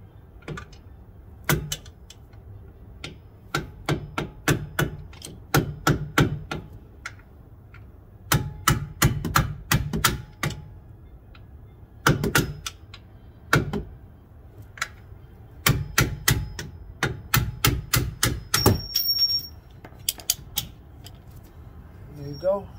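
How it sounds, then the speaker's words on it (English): Hammer and punch tapping a wheel bearing bolt out on a 2007 Buick Rendezvous, sharp metallic taps in quick bursts of several strikes, separated by short pauses, close and fairly loud. "you might take a punch or something small and finish tapping it out"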